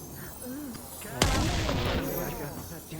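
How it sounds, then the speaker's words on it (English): A single loud cannon blast from a distant gun line in a battle game, a sharp boom followed by a rolling echo, with voices talking before and during it. "And there's another cannon line by sounds of things."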